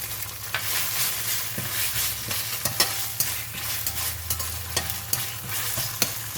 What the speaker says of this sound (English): Just stir fry until it releases a very nice fragrance.